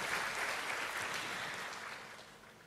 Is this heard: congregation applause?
yes